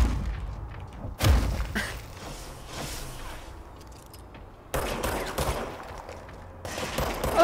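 Enemy gunfire in the video game Control comes in bursts: a sharp volley, then a quieter stretch of scattered shots and thumps, then two more loud bursts of rapid fire.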